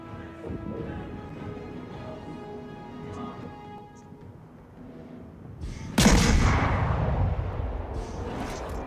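Warship main guns firing in the naval battle game World of Warships, a single heavy booming salvo that erupts abruptly and rumbles on, preceded by steady engine and ambient game drone.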